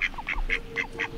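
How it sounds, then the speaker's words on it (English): Ducks in England give five evenly spaced, nasal honking quacks in quick succession, close and clear over a low background hum. "See you later, English ducks."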